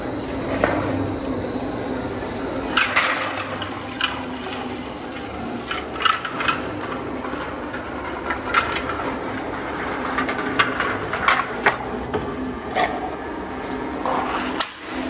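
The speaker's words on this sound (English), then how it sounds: "We're now going to run the slitter." A slitter runs along a Magnabend magnetic sheet metal brake, a continuous mechanical rumble punctuated by repeated sharp metallic clicks and scrapes as it travels across the sheet metal.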